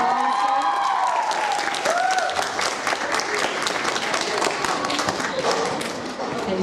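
Loud, dense applause from a group at a children's reading event, honoring a young reader, with voices and cheering mixed in and the clapping holding strong throughout.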